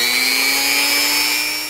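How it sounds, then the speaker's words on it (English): A Dremel rotary tool polishes the chamber shroud of a SIG Sauer P232 pistol, giving a loud, close, steady high-pitched whine that holds for under two seconds and starts to fade at the end. "I am going to polish up the shroud around the chamber here with a Dremel."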